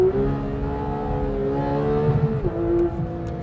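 A Ferrari 458 Speciale on a track pulls hard out of a corner, its engine note climbing steadily before a brief gearchange dip, then rising again, loud and close.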